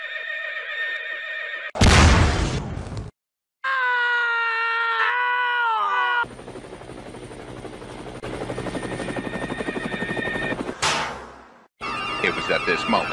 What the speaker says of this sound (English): I love horses.